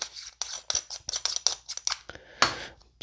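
Crisp, close clicks from the turrets of a Vortex Viper PST Gen II 1-6x24 riflescope being turned, arriving in a quick irregular series of sharp ticks with one longer rasp near the end.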